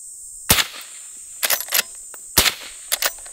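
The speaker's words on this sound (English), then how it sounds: "And this is a 357." Four suppressed .357 Magnum revolver shots through a Rugged Obsidian 45 suppressor, each a sharp crack with a brief tail, irregularly spaced outdoors, fairly loud and with no voices.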